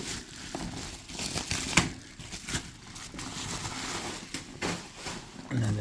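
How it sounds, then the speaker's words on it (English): Bubble wrap from a figure's packaging is handled and crinkled up close, with a few sharp pops breaking through the steady plastic rustle. "And since it's bubble wrap, you have to pop a couple."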